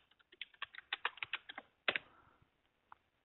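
A root password goes in on a computer keyboard: a quick run of about a dozen close, crisp key presses, a brief pause, then a heavier clack and a final lone tap, with no talk.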